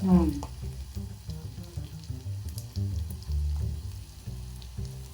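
Cumin seeds and green chillies frying in a pan for lemon dal, a steady soft sizzle with light stirring under a low background hum.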